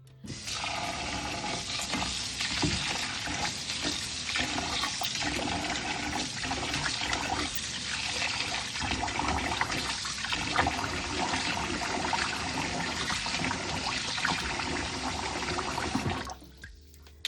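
Tap water runs steadily and loudly for about sixteen seconds as rice is washed under it in a kitchen, a continuous rushing splash with no talk, cutting off near the end.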